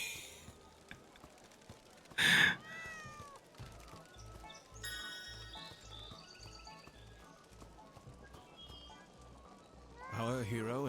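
A cat meows from a suspicious machine in the video game Sir Whoopass, two loud bursts, one early and one at the end, over a quiet electronic hum and blips, with talk in between.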